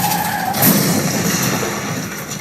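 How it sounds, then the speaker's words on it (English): A car skids and crashes, a loud harsh burst of tyre and engine noise that swells around midway and then fades into a rough continuing roar. "Let's go to some live footage of a lady in a car crash."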